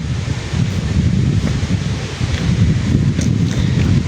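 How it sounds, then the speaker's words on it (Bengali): Cool monsoon wind whooshing steadily across an open spot beside a rain-filled pond, a continuous loud rush with low buffeting rumble against the microphone and no voices. "বাতাসে শো শো শব্দ হচ্ছে"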